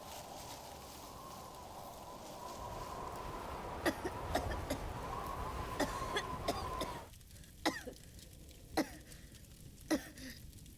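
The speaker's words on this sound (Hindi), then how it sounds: "तुम्हारी खांसी बढ़ती जा रही है।" Several sharp, separate coughs break out at irregular intervals over a faint steady hum, growing a bit more spaced toward the end, in a Doraemon animated film.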